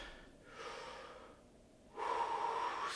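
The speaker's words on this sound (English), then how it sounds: "Big deep breath." Deep breathing during a hips, hamstring and back stretching workout: a soft inhale, a pause, then a louder, longer breath out in a close, quiet room with no talking.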